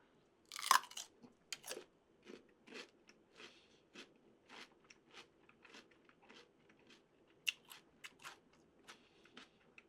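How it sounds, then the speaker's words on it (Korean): Crisp, juicy crunching of a fresh cucumber being bitten and chewed close to the mic, with a loud first bite followed by a steady run of smaller wet crunches and a couple of sharper bites later. "오이도 굉장히 달달한 과일처럼 느껴질지 먹어보도록 하겠습니다"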